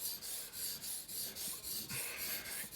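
Kitchen knife sharpened on a wet whetstone, steady rhythmic scraping strokes repeating about every quarter second, close and fairly quiet, with no talk.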